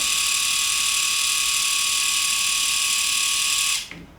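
A Philips i9000 Ultra electric shaver runs with a steady, bright, even whine held close for several seconds, then switches off abruptly.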